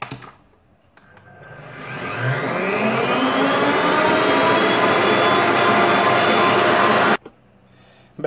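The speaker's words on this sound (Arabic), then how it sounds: "بعد ما زدت الشوكولا ديالي دابا على بركه الله غادي نخلط الخليط ديالي مزيان" An electric hand mixer whirs loudly and steadily through a chocolate cheesecake cream mixture of cheese, chocolate and whipped cream, starting after a short pause, rising to a sustained buzzing drone, then cutting off abruptly.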